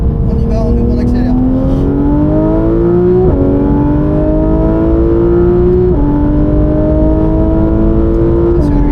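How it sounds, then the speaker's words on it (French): A race car accelerates hard on a circuit during a driving coaching session, its engine note climbing steadily and dropping sharply at two gear changes, loud and close throughout. "On y va, on ouvre, on accélère."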